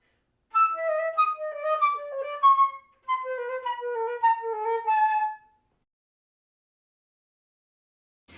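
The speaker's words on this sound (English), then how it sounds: "I like to put 2 shakes of vibrato on the tenuto notes" A flute plays a short passage of crisp staccato notes and then a phrase of held tenuto notes with a light vibrato, clear and close, before the playing stops and silence follows.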